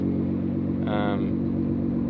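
A Nissan GT-R twin-turbo engine with a tuned downpipe and Boostlogic exhaust rumbles low and steady, with a brief turbo whoosh rising over it for a moment before settling back into the drone.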